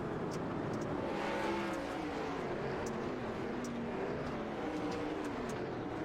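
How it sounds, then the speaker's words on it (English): Dirt track race cars at Lernerville in a sim racing game drone steadily as a pack of engines roars around the oval, with a continuous blended rumble at moderate distance. "Cars scampering all over the racetrack as they fight and claw their way back off the corner to the back straightaway"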